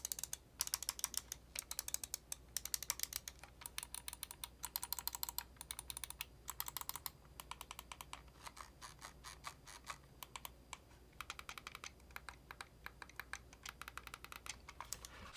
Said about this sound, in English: And as far as the button clicks, very crispy here.